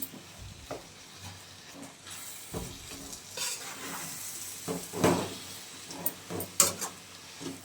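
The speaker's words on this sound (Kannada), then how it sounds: "ಆಲೂಗಡ್ಡೆನೇ ಮ್ಯಾಶ್ ಮಾಡಿ ಇಟ್ಕೊಂಡಿದ್ದೀನಿ ಅದು ಸೇರಿಸ್ಕೊತಾ ಇದ್ದೀನಿ ಎಲ್ಲ ಒಂದ್ಸಲ ಮಿಕ್ಸ್ ಮಾಡ್ಕೋಬೇಕು" Mashed potatoes are stirred into a potato sagu curry in a pan, giving intermittent scraping and clacking strokes over a quiet hiss of simmering, close by with no speech.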